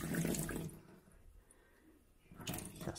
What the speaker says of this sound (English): I've just put a little bit of water into the sink here.